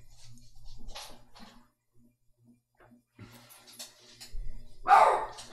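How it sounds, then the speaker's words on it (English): Indoor dogs let out a few scattered barks, some distant and faint, then one louder, nearer bark near the end, with quiet stretches between. "Oh, my dogs heard something outside."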